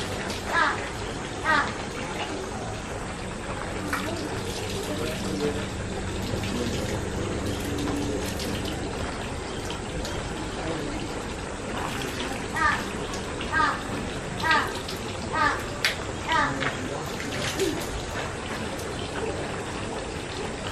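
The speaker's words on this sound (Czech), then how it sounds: "potom si nalijete vodu ještě do levý ruky, a s tím se musíte napít" Water poured from a ladle and splashing into the basin of the Meiji Shrine purification fountain in Japan, intermittent trickles and drips over a running-water background with people talking nearby.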